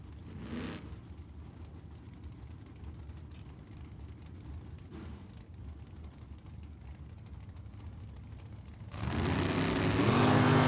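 A Camaro drag car roars at Tucson Dragway, a steady distant engine drone that swells into a loud, close rev near the end.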